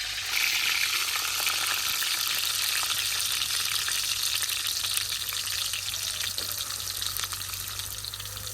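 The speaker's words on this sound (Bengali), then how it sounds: "কড়াইয়ের মধ্যে দিয়ে দিব তেল। দিয়ে দিব গরম মশলা, তেলের উপরে দিয়ে দেবো পেঁয়াজ কুচি" Chopped onions and garam masala frying in oil in a wok for a home-cooked village meal, a loud continuous sizzle with faint stirring scrapes throughout, no talking.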